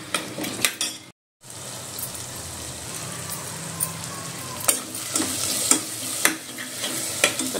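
Masala sautéing in a pan with steady sizzling, punctuated by repeated scraping and clinks of a spatula against the metal, close and clear with a brief gap near the start.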